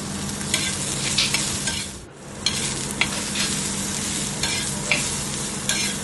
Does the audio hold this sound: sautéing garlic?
yes